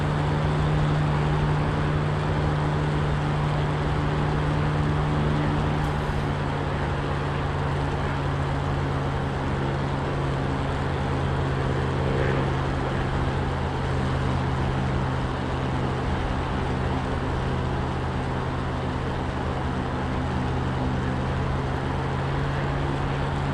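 A Spitfire's piston engine drones steadily in flight in the DCS simulator while on final approach with flaps down, a constant loud hum with a low tone that never lets up, and no talk.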